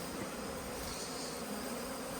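Bees from a relocated hive buzz as a continuous, faint, even hum with no breaks and no voices.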